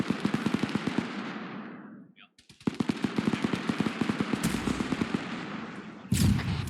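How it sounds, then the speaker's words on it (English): A BTR armoured vehicle fires its gun in a military combat game, long rapid bursts of automatic fire with a short pause, loud and fairly close, ending in a sharper blast. "Yeah, it's still shooting off to our side."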